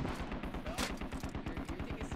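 Suppressing gunfire in the Squad video game: a steady rapid stream of automatic fire, evenly spaced shots at a regular rhythm, heard at a distance and fairly faint.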